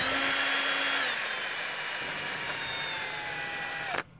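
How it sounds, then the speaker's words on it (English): A power screwdriver whirs steadily while backing a bolt out of a bunk bed frame, its motor pitch sliding gradually lower before cutting off abruptly near the end; close and fairly loud, with no talking. "take your power screwdriver that you got and you would just put that right there in the bolt thread, just back it out like that"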